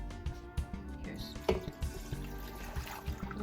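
Water is poured into an Instant Pot for pozole rojo, a soft, low splashing fill close by with a few clunks, while a person talks over it.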